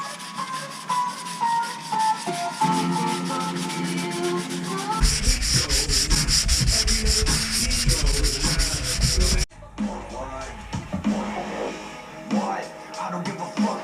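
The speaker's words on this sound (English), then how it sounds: "Alright, I'm going to start sanding." A surface is sanded by hand while painting a project car, with rough, continuous scratchy rubbing in sustained strokes, close and loud, changing in texture partway through.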